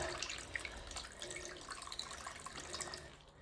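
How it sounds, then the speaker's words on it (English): Hot water runs steadily from a newly plumbed tap in a downstairs toilet fit-out, a continuous close splashing and gushing flow with faint dripping and no talk. "Yep, that's hot water in there."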